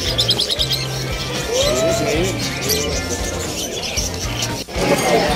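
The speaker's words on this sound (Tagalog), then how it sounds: "Kano kalapati mo?" Pigeons coo and chirp in a noisy pet market in Malabon, with people talking and bustling nearby.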